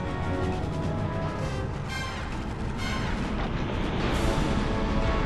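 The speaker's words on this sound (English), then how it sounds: "you didn't have to shoot at me" Sustained rumbling bursts of gunfire from sentries in Final Fantasy X-2, dense and steady throughout with a swell toward the end, no talking.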